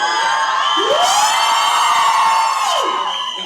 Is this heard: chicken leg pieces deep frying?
no